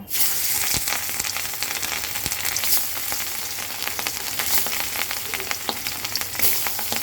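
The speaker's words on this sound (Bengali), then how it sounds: "এখন মাছটাকে আমি হালকা একটু ভেজে নেবো" Hilsa fish fries lightly in hot oil, giving a loud, continuous sizzle with frequent crackling pops that runs through the whole stretch.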